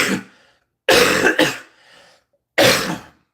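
Several harsh coughs burst out close by, one after another with short gaps, a wet throaty rasp trailing between the bursts from a person recovering from illness.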